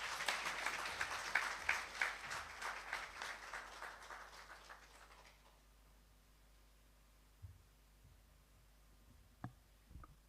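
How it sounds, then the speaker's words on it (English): Audience applause follows a speech at an African women's conference and awards event. Dense clapping fills the first five seconds, then fades to a quiet room where a few scattered claps and small knocks remain. "Round of applause again to Ms. Leah for the wonderful speech"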